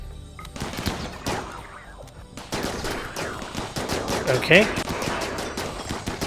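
Turrets fire in the RimWorld video game, a dense stream of rapid gunfire bursts mixed with other game effects, while someone speaks a word over it.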